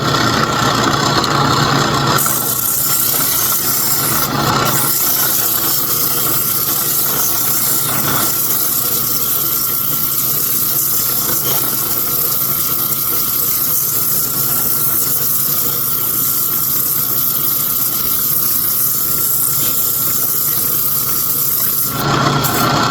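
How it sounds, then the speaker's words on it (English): A power sander works up and down a toy train tank car cylinder with a steady, continuous whirring hiss. The sound holds close and even throughout, with slight shifts near the start and end. "I'm just going to turn this on, and I'm going to just keep on going up and down like this here to sand that"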